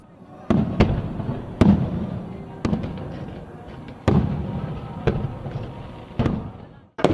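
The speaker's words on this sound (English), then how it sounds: "They also enjoyed colourful fireworks later." Fireworks burst at a Golden Temple celebration in a series of sharp booms, roughly seven loud cracks at irregular intervals, each trailing off in a rumbling tail, with crowd noise faintly underneath.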